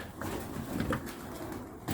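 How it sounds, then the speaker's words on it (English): Pigeons, about a dozen, cooing in a dusty upper loft of an old furniture store in Scotland; soft, low coos murmur continuously through the roomy space, with a few brief scuffs and rustles, no talk. "There's about a dozen pigeons up here."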